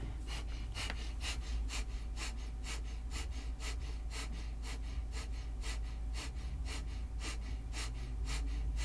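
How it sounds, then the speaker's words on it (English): Rapid, rhythmic breath of fire in a Kundalini yoga session, a quiet nasal puffing at about two to three sharp exhales per second, evenly pulsed and close to the microphone, with no talking. "begin your breath of fire"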